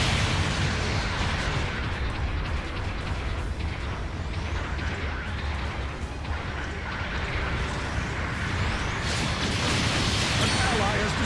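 Mobile suit explosions and heavy weapon fire in a Gundam video game battle featuring the Guncannon Aqua, a loud continuous barrage of blasts and crashes with game voice announcements mixed in.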